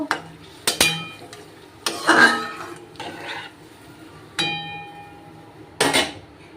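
A lid is set onto a cooking pot of vegetarian paneer curry made with little oil, giving several separate metallic clanks and clinks, each with a short ringing tail, against a quiet kitchen background.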